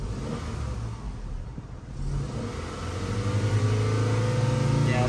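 A Honda Accord engine with a clogged EGR valve idles, then revs up as the throttle is pressed, its rising drone heard close and steady with no talk.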